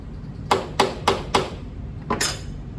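Sharp metallic hammer blows flaring a metal rivet: four quick, evenly spaced strikes, a pause, then two more lighter taps, close and alone.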